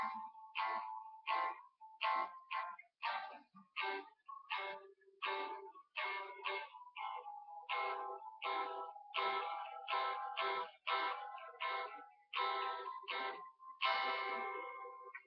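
Acoustic guitar strumming the chords of a song, quiet and close, with about twenty evenly paced strums, each ringing briefly before the next.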